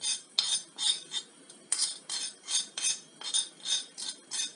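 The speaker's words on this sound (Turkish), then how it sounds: "Şimdi kakaomuzu ve unumuzu karıştıralım." A spoon scrapes and stirs dry cocoa powder and flour together in a bowl, making steady, rhythmic gritty strokes about two or three per second, close and fairly loud, with no talking.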